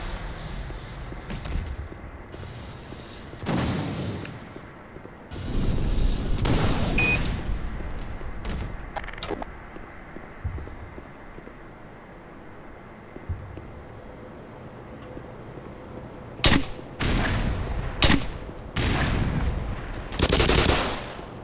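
Bursts of gunfire from a weapon in the Black Mesa video game, several loud sharp volleys early on, a quieter stretch in the middle, then a rapid run of shots near the end.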